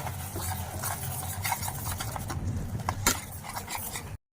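Tomatoes, peas and spice paste fry in a pan while a spoon stirs and scrapes through them over a steady sizzle, with close clanks against the pan until the sound cuts off abruptly.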